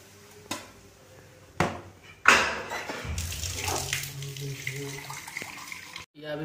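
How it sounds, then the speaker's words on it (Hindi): Water poured into a pot of prawn curry cooking on the stove, a splashing, running pour that starts sharply and settles into a steady sizzle-and-flow with a few clinks of utensils, fairly close. "यह अभी पानी दे दिया है"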